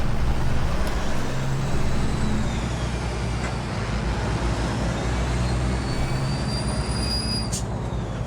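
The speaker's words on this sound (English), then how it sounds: "We've got this Kenworth trying to overtake me." In American Truck Simulator, a Kenworth truck overtakes on the highway with a loud, continuous engine drone and a thin tonal whine that slowly shifts in pitch; no voices are heard.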